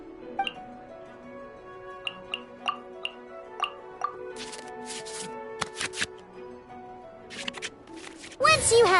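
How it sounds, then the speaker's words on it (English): Cards are shuffled back into the draw pile in the Genshin Impact card game, a run of crisp rhythmic ticks and flicks under steady game music, with someone talking over it. "we can select any number of cards in our hand to shuffle back into the draw pile"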